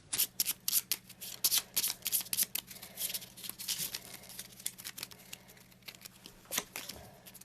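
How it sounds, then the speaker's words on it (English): A deck of cards for the Eldritch Horror board game being shuffled by hand, a rapid run of crisp riffling bursts and soft slaps, close and clear with no talk. "Give it a shuffle."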